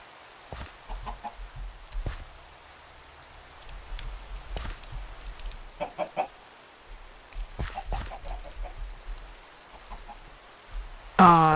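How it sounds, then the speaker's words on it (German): A chicken in the Minecraft video game gives several short, scattered clucks, soft to moderate against a quiet background, ending in a brief louder sound. "Steht ein Huhn drauf."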